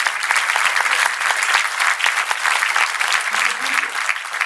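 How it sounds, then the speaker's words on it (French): A comedy show audience in Balma bursts into loud, dense applause that carries on steadily throughout, with a voice faintly heard beneath the clapping. "On applaudit toute la municipalité de Balma"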